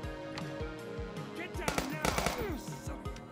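Submachine gun fire in a police action video game crackles in rapid bursts, loudest in the middle of the stretch, while voices shout over the shooting.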